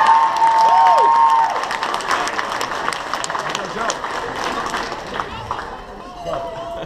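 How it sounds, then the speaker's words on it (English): Wedding guests applaud and cheer in a reception hall, a loud burst of dense clapping that gradually tapers off, with crowd voices mixed in. "I want to give up a round of applause for Salim to be the pioneer"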